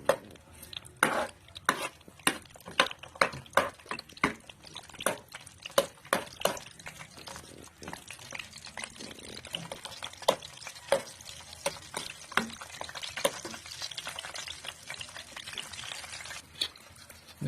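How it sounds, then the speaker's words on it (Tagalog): Dried fish and eggs cook in a pan for breakfast, with repeated sharp scrapes and clinks of a utensil against the pan over a faint background sizzle. "Itong tuyo, tapos itlog. And then, pinirito ko na siya."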